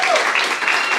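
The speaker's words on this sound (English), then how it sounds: "can we give a massive round of applause to our organisers and all of the members of staff?" Audience applause for event organisers and staff at a startup weekend pitch night in Perth, a dense, steady clapping from a crowd filling the whole brief moment at close range.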